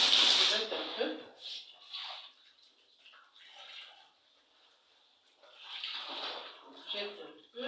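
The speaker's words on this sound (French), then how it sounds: "Ça, c'est les premiers rinçages." A shirt rinsed by hand in a basin of water gives soft sloshing and splashing that comes and goes in bursts, close by, with a voice speaking in between.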